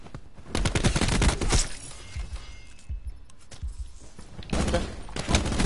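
Short clusters of burst-fire gunshots from a Black Ops 4 gun game match ring out loud and close, with a sharp rattling volley near the start and another near the end, plus scattered impacts in between.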